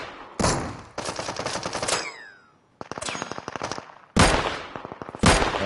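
Gunfire in the video game Deadside comes in loud, close bursts of rapid automatic shots, separated by short pauses and ringing tails, with no talk.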